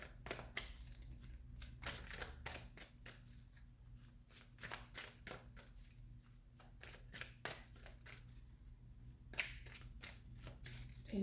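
Tarot cards dealt one by one off the top of a deck for a Celtic cross reading, a steady series of soft close snaps and slaps over a low constant hum, with no talking.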